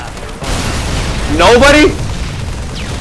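A Halo 3 rocket explosion booms loudly and close, a broad rumbling blast that swells briefly and then trails into a low roar, with a player's short remark over it.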